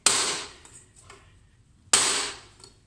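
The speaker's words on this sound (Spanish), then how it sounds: "vamos a seguir dando duro" Two sharp metallic hammer blows strike a rusted bicycle bottom bracket cup, each ringing out and decaying, spaced about two seconds apart with faint clinks between.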